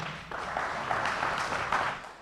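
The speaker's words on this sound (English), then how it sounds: "Clap for him." An audience at a philosophy symposium claps for a speaker, a continuous even patter of hands that swells slightly and then fades at the end, with no voices on top.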